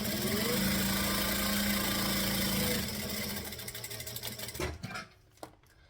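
A sewing machine runs a stitch and then a back stitch, a close, steady mechanical whirr that cuts out near the end and leaves a few soft clicks and handling noises.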